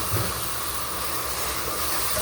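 Ground tomato hitting a pan of fried onions gives a steady, close hissing sizzle throughout, with no talk over it.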